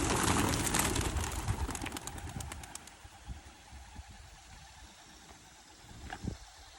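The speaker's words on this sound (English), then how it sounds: "About to let the birds go," Racing pigeons released at a 10-mile toss: a burst of wing flapping and clatter at the start that thins out over a few seconds, leaving quiet outdoor ambience with a few faint later flutters.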